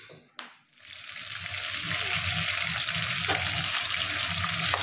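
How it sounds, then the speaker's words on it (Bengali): Fish frying in a pan: after a brief clank, a loud hiss swells up and settles into a steady, close, continuous sizzle. "এই যে মাছগুলো ভাজা হচ্ছে, মাছগুলো বেশ কড়া করে ভাজবো।"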